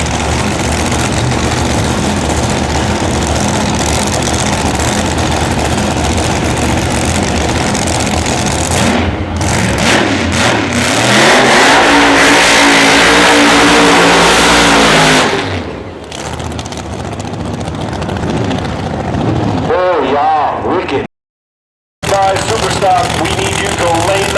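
A funny car making a drag racing run at Maryland International Raceway during a 2006 IHRA Pro-Am divisional race, a loud roaring engine that swells into a sustained revving howl, then cuts off and fades, with speech nearby.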